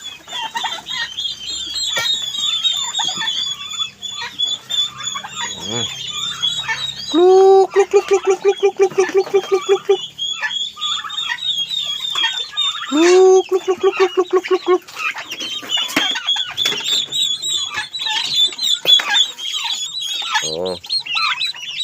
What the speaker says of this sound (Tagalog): Ito na yung mga sisiw ko katindero. Sisiw ng pabo.